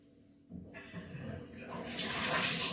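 Water running from a tap while hair is rinsed, starting quietly and swelling into a loud, steady splashing rush; a voice is heard faintly underneath.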